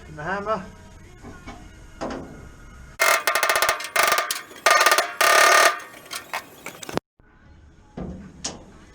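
A hammer driving a drift against the steel floor pan of a classic Mini under restoration, a burst of rapid, loud metallic blows after a few seconds, with someone talking before and between them.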